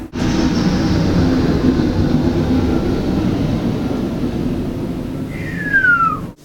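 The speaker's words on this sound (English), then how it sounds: "cue that airplane." A prop airplane drones overhead as a loud, steady broadband rumble that fills the whole stretch and swells slightly toward the end, with a brief high whistle near the close.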